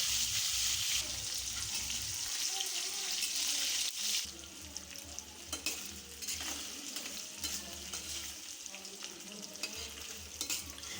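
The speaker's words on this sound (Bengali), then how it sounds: "কড়াইতে তেল দিয়ে দিয়েছি, তেলটাও খুব গরম হয়ে গেছে। পনিরটা দিয়ে দিলাম, দিয়ে পনিরটা খুব ভালোভাবে ভেজে নেব।" Paneer frying in very hot oil in a kadai, a steady close sizzle with stirring and scraping running through the whole stretch, no voices.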